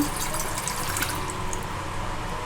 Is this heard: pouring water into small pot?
yes